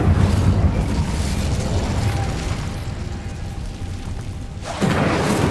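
A Bombarda blasting spell in Hogwarts Legacy, a dense, rumbling explosive roar that holds for several seconds before a fresh, sharper burst near the end, loud and close with no speech.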